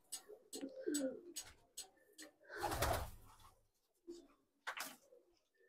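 Pigeons coo indoors around a nest with young chicks, in soft, repeated low phrases with a louder burst near the middle, set against quiet room noise.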